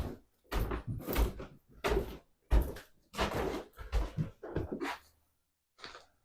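Old wooden steps inside an old town hall creak underfoot in a close, irregular series of drawn-out groans and knocks, with short pauses between treads.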